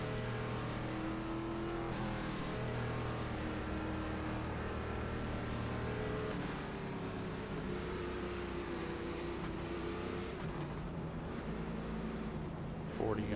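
A NASCAR race car engine on pit road in the iRacing video game, a continuous, loud mechanical drone with shifting pitch throughout, while a voice talks over it.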